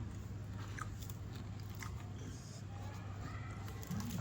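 Close-up crunchy bites and chewing of fried surmai (kingfish) during a home meal, soft repeated crunches over a low steady background hum, with no talk.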